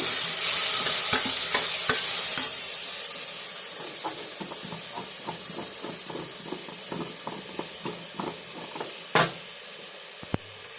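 Potato and onion sautéing in a pan, a bright sizzle with steady hiss under regular scraping stir strokes, the frying easing slightly toward the end with a couple of sharper clinks.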